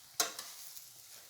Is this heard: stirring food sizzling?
yes